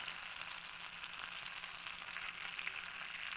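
Breaded chicken nuggets fry in hot butter and oil with a steady, dense, close sizzle that crackles faintly throughout and has no voices over it.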